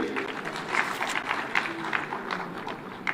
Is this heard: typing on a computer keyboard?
no